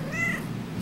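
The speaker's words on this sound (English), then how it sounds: "This little kitty is like bothering me so much." A stray kitten gives a single short, high meow at close range against a quiet background.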